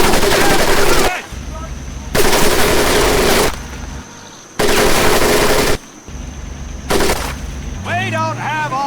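Loud, close machine gun fire in repeated long bursts during boot camp training in Medal of Honor Pacific Assault, with short quiet gaps between bursts and a voice speaking near the end.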